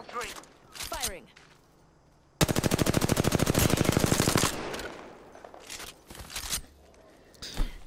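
Rapid automatic gunfire in the Apex Legends video game, a dense loud burst of evenly spaced shots lasting about two seconds, framed by quieter game sounds and footsteps before and after.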